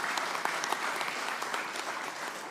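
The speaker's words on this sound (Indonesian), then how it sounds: "Kita berikan tepuk tangan yang meriah buat beliau." An audience at an Indonesian political event declaring the 2024 presidential and vice-presidential candidates claps in dense, sustained applause that fills the hall evenly throughout.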